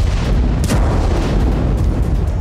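Artillery shells fired by North Korea at South Korea hit with loud, dense booming, a continuous roar of explosions and sharp cracks that fills the whole stretch without voices.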